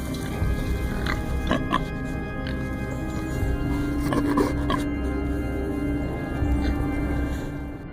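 Wild boars caught in a sturdy steel netting trap grunt and squeal continuously, several animals close by with overlapping calls and some clanking against a dense, noisy background.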